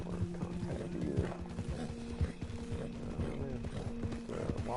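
A horse in the Red Dead Redemption II video game clatters its hooves in an irregular gallop and lets out snorts and neighs, set against a low, busy game soundscape.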